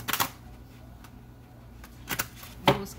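Tarot cards being shuffled by hand, with three short crisp riffling bursts separated by quiet pauses, close and fairly soft.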